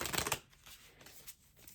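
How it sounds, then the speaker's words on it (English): Tarot cards riffle in a brief burst of papery shuffling at the start, then a soft, fainter rustle of handled cards, close and quiet without talk. "I'm just shuffling a little bit, not too much"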